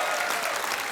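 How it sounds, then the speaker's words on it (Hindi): Loud, dense applause from a studio audience on a comedy talk show bursts out in a short, continuous wash of clapping with no talk over it. "जोरदार तालियां इसके लिए"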